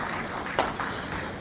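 Audience applause at a hotel inauguration ceremony attended by Tanzania's president, a faint, steady wash of clapping from a crowd, with one sharper burst briefly standing out.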